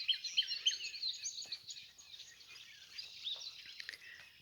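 Birds chirp and twitter faintly at a distance in an evening garden where elderberry is in bloom, with many overlapping small calls and no one speaking.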